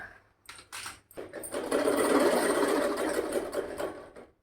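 A household sewing machine, tested after sitting unused for a while, clicks a few times and then runs steadily, stitching with a continuous close whirring hum for several seconds before stopping.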